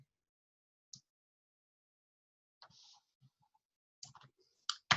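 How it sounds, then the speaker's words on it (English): Typing on a computer keyboard to enter a formula in Excel, heard as a few sparse, faint key clicks separated by pauses, with a quicker cluster of taps near the end. "I'm going to type in normal distribution"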